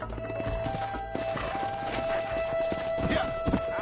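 Horse hooves clip-clopping in Red Dead Redemption, a steady walking rhythm of muffled hoofbeats amid game ambience and music, with faint voices.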